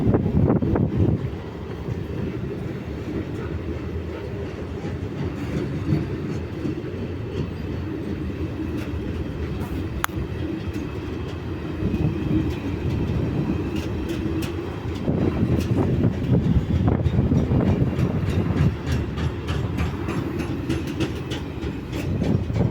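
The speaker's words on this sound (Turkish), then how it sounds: "Trenimiz gidiyor." A TCDD ore freight train rolls past for a long stretch, a loud, continuous rumble with rhythmic wheel clatter, gusts of wind noise and heavier passages toward the end.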